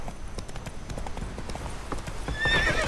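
Horse hooves clip-clop at a steady gallop in The Witcher 3, with a whinnying neigh rising near the end, loud and close in the game's soundscape.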